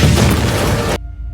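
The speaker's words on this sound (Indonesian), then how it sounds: "Tembakan Drax berhasil menghancurkan pesawat Sovereign yang diremote oleh Zilak." Explosion of a spaceship shot down in an action film: a loud, dense boom lasting about a second, then a sudden cut to near-silence with a faint lingering hum.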